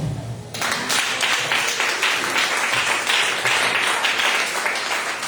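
A church congregation claps and cheers together in sustained, dense applause that starts abruptly and holds at a steady loud level throughout.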